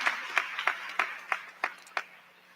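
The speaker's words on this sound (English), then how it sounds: "Let's give ourselves a round of applause for making it to this moment." Graduation audience at the Meade High School 2024 commencement claps in slow, separate strokes, about seven distinct claps spaced evenly, fairly faint and roomy over a low hum.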